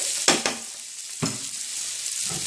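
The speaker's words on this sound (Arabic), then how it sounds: "الكبده اتشوحت اهي كويس، هي والقوانص." Chicken liver and gizzards sizzle steadily in a hot pan while a spoon scrapes and taps the metal a few times as they are stirred.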